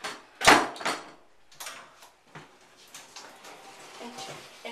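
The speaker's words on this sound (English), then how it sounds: "Interior door closes." Interior manual door of a hydraulic elevator at Redwood Apartments complex closing with a sharp nearby clack followed by softer rattles and thuds, with faint voices in the background.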